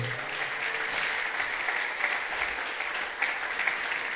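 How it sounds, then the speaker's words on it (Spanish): Congregation at the close of a Christian service clapping together, a steady, soft wash of many hands, somewhat distant and even, with no voices standing out. "En el nombre de Jesús, démosle palmas al Rey"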